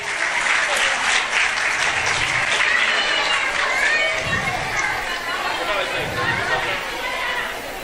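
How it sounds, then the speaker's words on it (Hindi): Sustained applause from a school audience at an annual prize distribution and cultural program, greeting the first-rank student; steady clapping mixed with crowd chatter and children's voices throughout. "जोरदार तालियां।"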